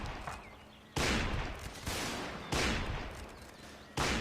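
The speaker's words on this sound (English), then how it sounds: "Those cannonballs come piling in." Cannon fire and musket volleys in a Mount & Blade North & South mod line battle, with four loud broadband blasts about every 1.5 seconds and a rumbling crackle of gunfire between them.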